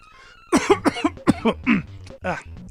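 A person coughs repeatedly in a rapid, harsh cluster of several close, loud coughs, with short breaths between them, while playing Dr. Mario.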